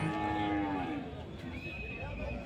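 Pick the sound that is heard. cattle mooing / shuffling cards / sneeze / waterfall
cattle mooing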